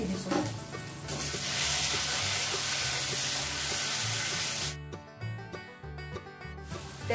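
Chopped onions sizzle and hiss in hot oil left over from frying fish, a steady close crackle that eases and turns patchy near the end.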